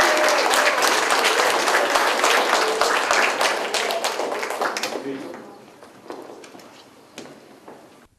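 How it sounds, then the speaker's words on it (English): Audience applause at the 2013 Move Mayor kickoff event for last year's winners: dense, loud clapping for about five seconds that thins and fades, leaving a few scattered claps at the end. "Give them a round of applause."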